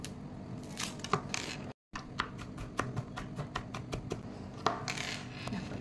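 Onion being finely chopped with a knife on a board, a run of quick, crisp clicks and taps at close range with a brief gap in the middle.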